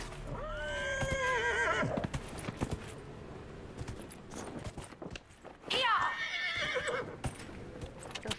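A horse whinnies loudly twice in the video game Dragon Age Inquisition, with galloping hooves clip-clopping in between, while people talk over the action.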